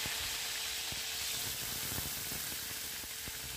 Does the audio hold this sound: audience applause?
no